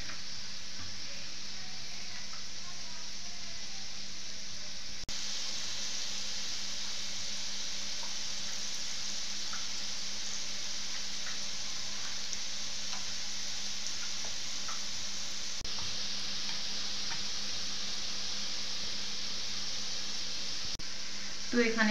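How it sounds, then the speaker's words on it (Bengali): Boondi drops of gram flour batter frying in hot oil, a steady crackling sizzle that holds throughout, brightening in bursts as more batter falls in, with a voice talking over it at times. "এইভাবেই তেলের মধ্যে পড়তে থাকবে আর তেলের ওপরে ভাসতে থাকবে।"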